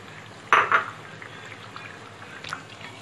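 Onions are stirred into chicken frying with masala in a pan for chicken nahari: a short double clatter of a utensil against the pan near the start, then only a faint, quiet background.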